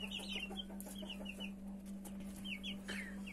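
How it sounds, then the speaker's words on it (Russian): Chicks cheep in short, high bursts while chickens cluck at a farm breeding flock, fairly close but soft, over a steady low hum and with no talking. "Чудесные цыплятки."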